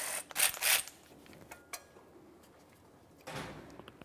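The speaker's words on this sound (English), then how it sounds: "Let's use a 10 millimeter to remove that bolt." A 10 mm ratchet working a bolt loose on a Jeep Wrangler front differential tube, with a few quick close clicking bursts followed by a single clack and a softer metallic rattle, no talking.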